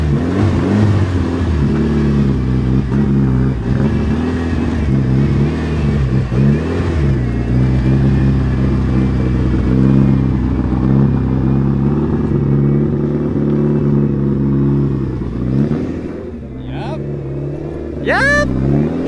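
A turbocharged Mitsubishi Evo 9 with a 2.3-litre stroker engine idles steadily and close by, with rising and falling revs, while people talk over it; near the end a few sharp higher-pitched squeals cut through.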